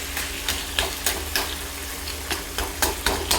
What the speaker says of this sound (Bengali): এই যে মাছের মাথাগুলো এইভাবে আরেকটু গুঁড়ো করে নিচ্ছি।